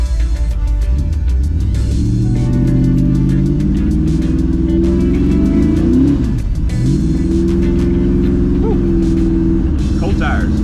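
BigRed, a pickup truck, accelerates hard on cold tires, a loud close engine roar rising through revs, with a shift dip midway and people talking over it.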